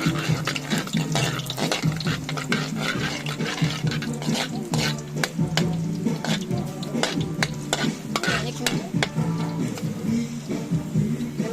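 Garlic frying and being stirred in a pan over a wood fire, a steady, fairly loud sizzle with repeated scraping stir strokes and clatter throughout, no voices.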